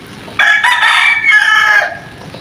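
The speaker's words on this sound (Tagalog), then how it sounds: "Yung mga manok nagtatago kasi umuulan." A single loud rooster crow rings out close by, a drawn-out call lasting over a second against a quiet background.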